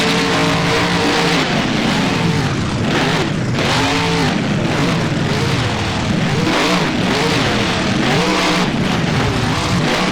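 A monster truck called Megalodon in the BeamNG video game, its engine revving hard and loud without pause, with the pitch rising and falling as the throttle swells and eases.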